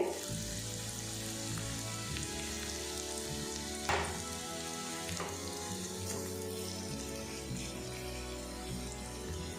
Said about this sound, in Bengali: তো আমি এই রকম নরম করে একটু ফ্রাই করে নিয়েছি